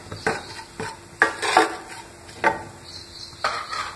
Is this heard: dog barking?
no